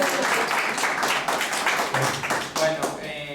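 Audience at a doctoral program session on culture and education applauding, fairly dense clapping with some individual claps and voices mixed in.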